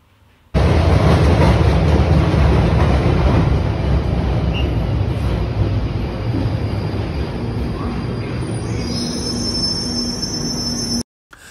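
A London Underground train rumbles loudly at close range from inside a carriage, with a dense roar of wheels on track and a high metallic squeal that sets in toward the end before the sound cuts off.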